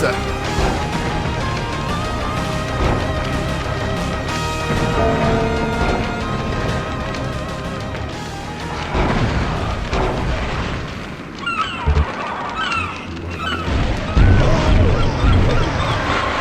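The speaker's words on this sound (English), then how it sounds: "I can't believe I shot towards a reflective shield with Wraithverge." A Wraithverge weapon blast striking a reflective shield in Hexen, with booming, crashing impacts over dense game music and effects, loud and continuous, then heavier bursts near the end.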